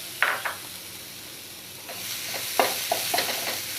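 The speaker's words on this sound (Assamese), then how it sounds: "নাৰিকলখিনি অকণমান সময় মিডিয়াম ফ্লেমত ভাজি ল'ম" Grated coconut frying in a hot pan over a medium flame, with a soft sizzle broken by several sharp stirring scrapes and taps close by, and no voices.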